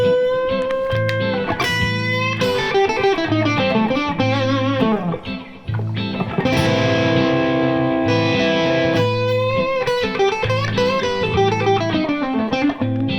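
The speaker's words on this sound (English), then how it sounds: "That's a great thing to do for bending from our flat 3 to 4." A distorted electric guitar plays bluesy string bends, pushing notes up from the flat third toward the fourth. The sustained, loud lead phrases run continuously with no voice over them.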